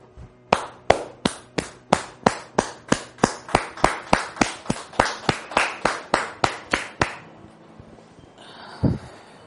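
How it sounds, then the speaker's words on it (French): A studio audience welcoming a guest onto a television stage claps in unison, about twenty sharp, evenly spaced claps on a steady beat before stopping abruptly, followed by a single low thump. "recevoir maintenant sur notre plateau par des acclamations et des applaudissements bien nourris"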